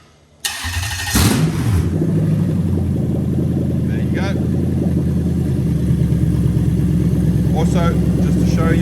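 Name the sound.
car engine starting and revving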